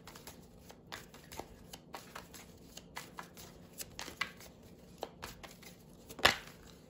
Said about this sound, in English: All right, so I'm gonna pull one card for March and one for April.